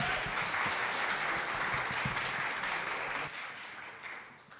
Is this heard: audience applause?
yes